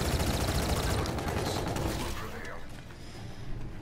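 Rapid gunfire from a Type 2 weapon in Call of Duty: Infinite Warfare, a dense loud burst that fades over a few seconds, with game effects mixed in.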